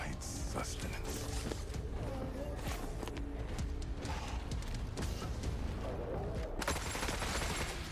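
An MG34 machine gun firing in the video game Forever Winter, sharp rapid bursts with mechanical clatter and footsteps, loud and close, with a sudden brighter burst near the end.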